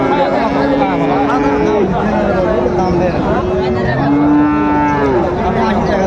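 Several Sahiwal cattle at a livestock market moo in long, loud, overlapping calls from near and farther off, under a continuous hum of people talking and bargaining nearby.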